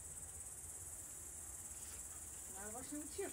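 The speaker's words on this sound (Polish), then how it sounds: "Słychać je. No, cykady." Cicadas in a mountain setting outdoors make a steady, unbroken high-pitched buzz that runs through the whole stretch. A faint, brief voice-like sound appears near the end.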